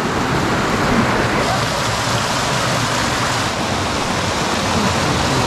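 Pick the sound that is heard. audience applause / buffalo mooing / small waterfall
small waterfall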